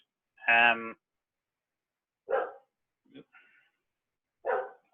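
A dog barks indoors during an online question-and-answer session: four separate, fairly close barks spread unevenly over a few seconds, with silence between them.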